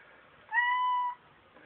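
Gray cat gives a single clear meow lasting about half a second, close by in a quiet room, with nothing else heard around it.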